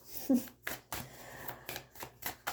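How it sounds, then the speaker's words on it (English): A deck of cards being shuffled by hand in a quiet room: a series of brisk riffling bursts and soft taps, close and fairly faint, spaced irregularly over a few seconds. "I'm going to shuffle."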